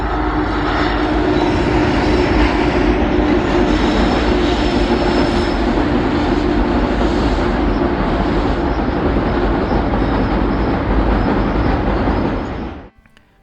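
Twin WAG-9 electric locomotives haul a train past near a bridge in the Shinadawane Ghats, a loud, steady rumble and rattle of wheels and wagons holding for about twelve seconds before cutting off abruptly.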